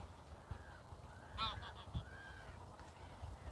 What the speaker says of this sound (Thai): นกแล้วก็ ห่านนะคะเยอะมากค่ะเยอะมาก